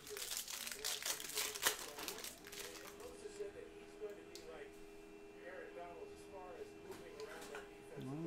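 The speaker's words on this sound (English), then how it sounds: "Let's print and rip. There it is, 2021 Topps Chrome Baseball Jumbo Pack." Foil wrapper of a 2021 Topps Chrome Baseball jumbo card pack torn open: close crinkling and tearing bursts dominate the first couple of seconds, then softer rustling continues under a voice and some background tones.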